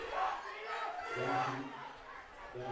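Hometown Orting fans roar from the stands just below the booth at a Washington 1A/2A high school boys lacrosse championship, a steady swell of shouting and chatter with no pauses across the whole stretch.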